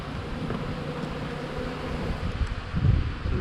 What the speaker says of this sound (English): You can see we filled up the feeders, so the bees are already